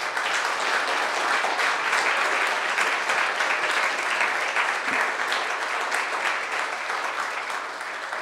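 Sustained, dense applause from a conference audience for a panel discussion on AI, loud and even throughout, tapering slightly at the end.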